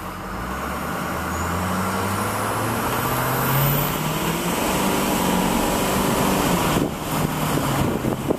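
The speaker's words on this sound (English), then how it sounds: "this is my Ford F250 with the stock exhaust." A Ford F250 6.0 Powerstroke diesel truck with its stock exhaust, a steady loud engine drone running throughout, close by, with a rising whine briefly audible and no talking.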